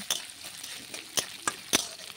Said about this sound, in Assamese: মই একদম কম জুইত ভাজিছোঁ